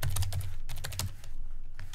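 Typing on a computer keyboard with a numeric keypad: a rapid, close series of crisp keystrokes with a brief pause near the middle.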